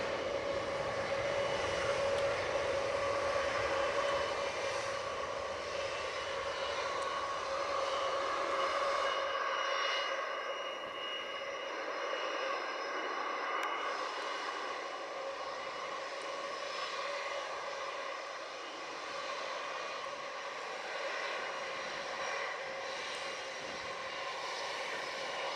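An airplane comes in to land at Montego Bay airport in Jamaica, its steady engine roar heard from a distance and fading slightly over nearly half a minute with no voices.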